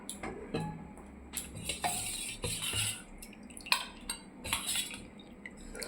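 Fish is served into a bowl with utensils, with light clinks, scrapes and taps of metal against the dish coming in an irregular run, close and fairly quiet.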